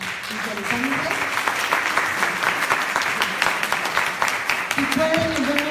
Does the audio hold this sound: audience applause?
yes